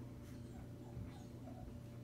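Newborn Sheepadoodle puppies less than a week old whimpering and giving small yips, soft and close over a constant low background hum.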